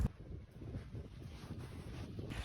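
Wind buffets the microphone while people sit in a small boat off northern Corfu, a steady low rushing roar with gusty rumble and no talk.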